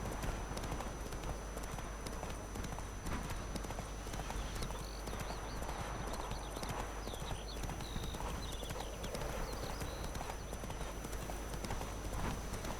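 Roach the horse galloping in The Witcher 3, a fast, steady clip-clop of hooves running over ambient game sound, with faint chirping above it.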